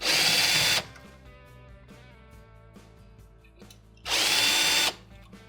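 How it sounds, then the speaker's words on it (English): A power drill backs out two small Phillips screws from the magnetron thermostat in a Whirlpool microwave, two loud high whirring bursts at the start and near the end, with quiet clicks and handling noise between. "So we want to go ahead and remove the 2 screws."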